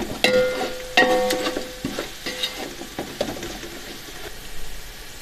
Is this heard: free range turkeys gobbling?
no